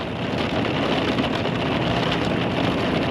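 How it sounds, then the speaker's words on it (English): Heavy rain pours down hard in a loud, unbroken hiss, drumming steadily on a nearby surface. "now it just looks like it's raining. It's coming down really hard."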